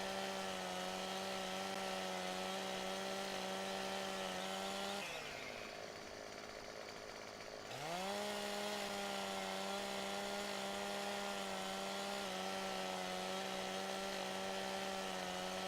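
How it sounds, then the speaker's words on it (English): A chainsaw cutting wood in the game Farming Simulator 17, a steady loud engine whine that bogs down and drops in pitch for a few seconds mid-cut, then revs back up to a constant drone. "I'm glad I switched to the chainsaw"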